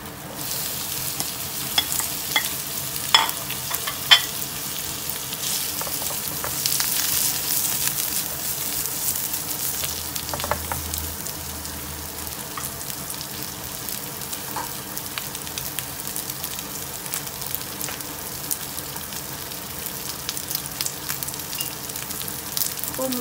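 Crispy pork fries in a pan for a Thai keto holy basil dish, a steady close sizzle with scraping stir strokes, loudest early, then settling into continuous crackle.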